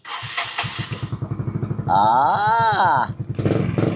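A Yamaha Mio Sporty scooter engine cranks with rapid chugging pulses, catches and revs up to a steady, rising-and-falling whine, then drops back to a throbbing idle, close and loud.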